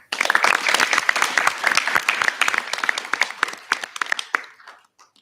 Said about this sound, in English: Please give Uncle a warm round of applause.